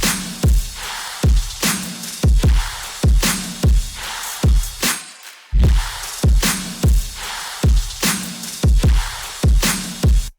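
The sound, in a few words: trap metal drum pattern, all drums together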